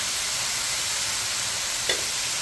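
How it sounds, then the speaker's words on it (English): Tomatoes go into a hot frying pan for Filipino beef mechado, bringing a steady, loud broadband sizzle with one brief splattering burst near the end and no voices. "We're gonna add our tomatoes."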